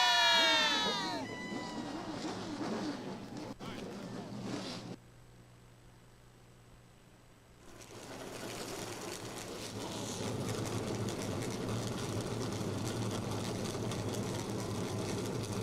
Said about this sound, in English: Drivers, start your